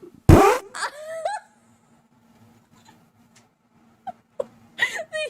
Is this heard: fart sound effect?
yes